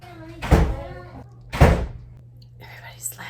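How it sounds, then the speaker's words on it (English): A door in a family home slams twice, giving two heavy, close thuds about a second apart. A soft voice is heard faintly afterward. "everybody slams that door"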